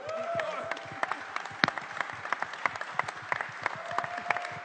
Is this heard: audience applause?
yes